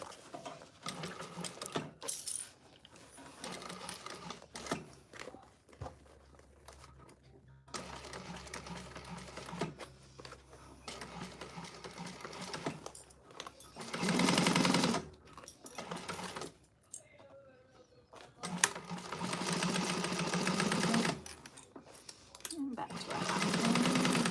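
A sewing machine stitches a handbag lining seam in bursts of fast whirring, stopping and starting several times, with a person talking between and over the runs.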